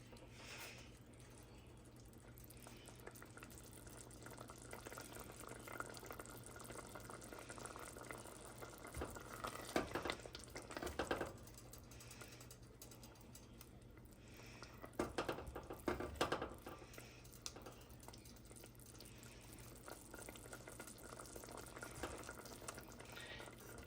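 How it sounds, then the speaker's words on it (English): Tomato jam salsa simmering in a pot, a steady low bubbling that runs throughout, with a few louder stirring bursts near the middle; no one speaks. "Stirring constantly, bring it up to a simmer."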